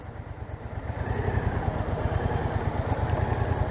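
A motorcycle engine idles and revs unevenly at close range while the rider searches for the clutch bite point during A2 licence training, a steady low throbbing with no talk over it.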